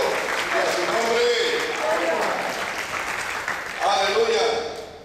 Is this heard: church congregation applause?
yes